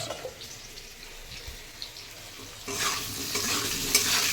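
Potatoes frying in a pan, a low sizzle with occasional stirring taps, followed by a louder rush of running water like a tap filling a sink.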